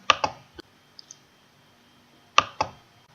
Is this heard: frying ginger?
no